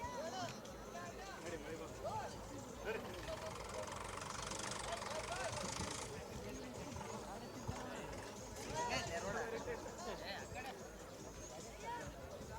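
A tractor at an off-road challenge event near Vijayapura idles with a steady low engine rumble and knocking throughout, under a noisy crowd and shouted announcements.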